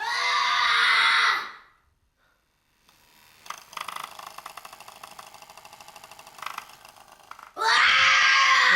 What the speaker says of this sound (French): c'est interdit de crier ici